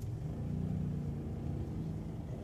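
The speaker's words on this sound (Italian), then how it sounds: "adesso da un colpo di acceleratore leggero" A car engine picks up lightly under a gentle touch of the throttle, a low, muffled rumble that rises briefly and then settles, fairly quiet throughout.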